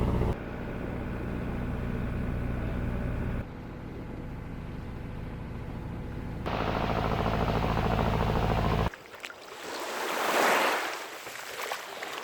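A boat crosses open sea at sunrise toward Panaitan Island in Ujung Kulon, its engine droning steadily and loudly for several seconds before giving way to the hiss of wind and waves swelling up and fading.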